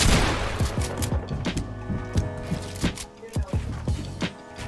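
Shotgun fire in a video game comes as a loud, rapid series of sharp gunshots and booms, close and overlapping, with voices talking faintly underneath.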